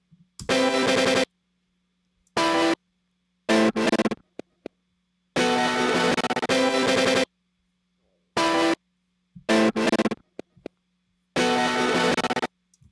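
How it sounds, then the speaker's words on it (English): Short bursts of high, chopped-up guitar, pitched up and stuttering in uneven blocks separated by silences, bright and close. "the same guitar part chopped up even more, and it's pitched up an octave"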